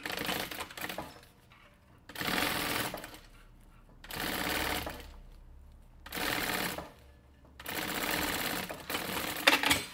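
A sewing machine stitches a 3 cm bias binding onto a versatile vanity case in four or five close bursts of rapid running, separated by short quiet pauses.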